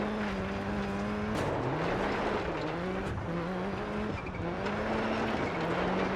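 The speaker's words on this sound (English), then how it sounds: "there was another power slide." A 2001 Subaru Impreza WRC power-sliding in DiRT 4, its engine revving up and down in repeated surges as the tires scrub and squeal through the slide, loud and close with no voices.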